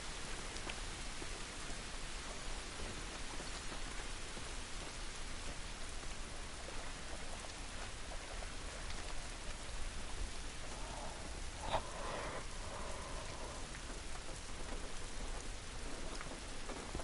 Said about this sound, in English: It's raining, doesn't it?